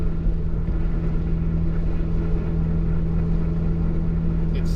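A turbocharged 2008 Honda Civic Si drives along with a steady low engine drone and road rumble, recorded from inside the car with no talking.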